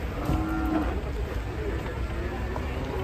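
Agitated cattle are unloaded from a rocking truck at Semanu, Gunung Kidul, with a low moo and thumps and scuffling amid background bustle and people talking nearby.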